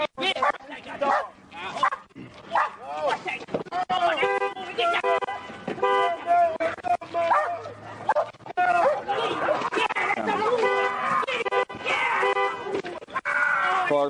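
A police K9 barks repeatedly during a roadside arrest after a vehicle pursuit in Arkansas, loud close yelps and barks mixed with shouting officers and passing traffic.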